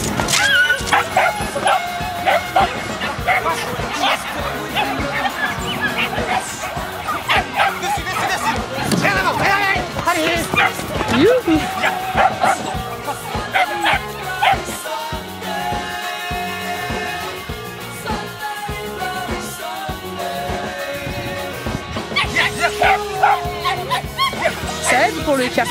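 A female dog barks in sharp yips and lets out whimpers during a training session, the calls coming in quick bursts with people talking over and between them.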